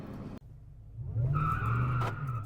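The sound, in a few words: Ford Raptor truck tires spinning on launch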